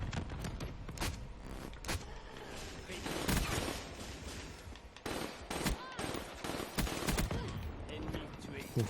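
Rapid bursts of gunfire in Call of Duty: Black Ops 3 multiplayer, dense repeated automatic shots and sharp impacts stacked close together across the whole stretch, loud and continuous with game effects layered in.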